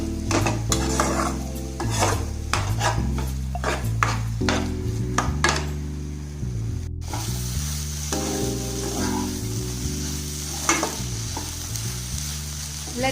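Masala egg podimas stirred and frying in a pan, a steady close sizzle with repeated scraping strokes of a spatula against the pan, no talk, over a low rhythmic background music.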